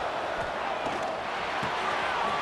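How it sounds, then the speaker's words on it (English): Stadium crowd in EA Sports College Football 26 roars as a steady, dense wash of cheering, loud and continuous with no pauses. "It's early, but this crowd is fired up. Listen to this noise here."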